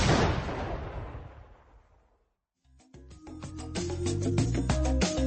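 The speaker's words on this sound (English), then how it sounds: "Love hearing that explosion." A loud explosion sound effect bursts in and rumbles away into near silence, then after a short gap a different busy, clattering sequence of bangs and hits follows.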